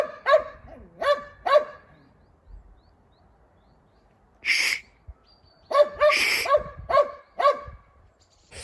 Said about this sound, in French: Là il va aboyer pendant 2 heures.